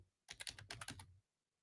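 A quick burst of close keystrokes on a computer keyboard, about ten crisp taps in under a second, then quiet.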